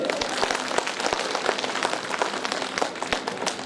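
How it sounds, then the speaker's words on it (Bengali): A crowd claps together in a dense, steady patter of many hands, sustained throughout at moderate loudness. "একটু দুই হাত দিয়ে করতালি দে করতালি"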